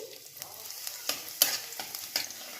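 Chopped garlic frying in oil for a stir-fried greens dish, a close crackling sizzle with repeated scraping stirs at an irregular rhythm and no talking.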